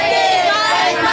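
A crowd at a birthday gathering for the Divine Master calls out a greeting together in one loud, sustained burst of mixed voices.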